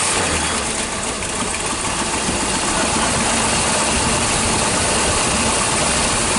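An old Ford truck with a brand new exhaust idles close by, a loud, steady, rumbling engine note that fills the whole stretch without break.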